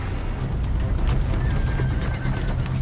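A horse whinnies while hooves clop steadily, set against a dense, continuous rumbling background that stays loud throughout.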